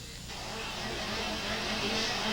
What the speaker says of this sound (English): Let's get down to some racing in the 125 Pro Shifter class.